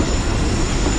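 Tezgam train rolling into Okara railway station, a loud, steady rumble and hiss of the arriving passenger train, close and continuous with no voices.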